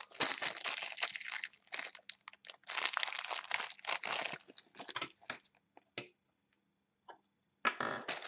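A LEGO Nexo Knights plastic packet is torn open and handled, giving close, bursty crinkling and rustling with short pauses and a brief silence near the end.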